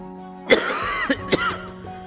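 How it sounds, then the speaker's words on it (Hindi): An older man coughs indoors, one sharp cough followed by two quicker hacking coughs, close and fairly loud against a faint background hum. "आप खांसना बंद करोगे प्लीज?"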